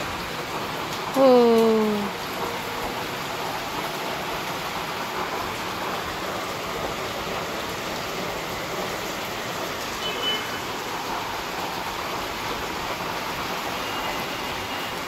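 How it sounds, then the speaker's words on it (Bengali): Heavy rain pours down as a steady, wide hiss that fills the whole stretch, with a short voiced exclamation near the start. "রান্না করতে করতে ঝমঝমিয়ে বৃষ্টি আসলো"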